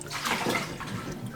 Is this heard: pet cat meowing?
no